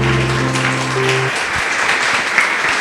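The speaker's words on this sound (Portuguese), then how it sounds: "Louve a Ele com suas palmas," A church congregation claps loudly during worship. Sustained music tones give way to a dense, even wash of many hands clapping at close range, with no talking on top.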